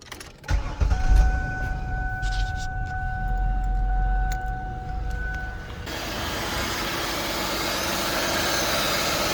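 A 2003 Ford Taurus engine cranks and catches, then settles into a steady idle, heard close with a continuous hum and a brighter hiss after a few seconds.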